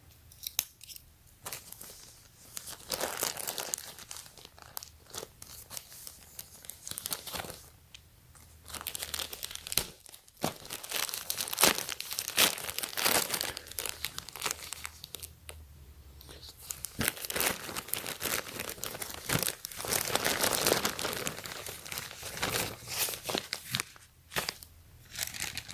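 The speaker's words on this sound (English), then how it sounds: "So let's go ahead and unwrap this and then check it out." A yellow bubble envelope gets torn open and unwrapped close up, with repeated crinkling, rustling and ripping bursts of plastic and paper separated by brief quiet pauses.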